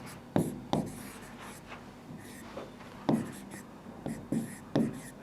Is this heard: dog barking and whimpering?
no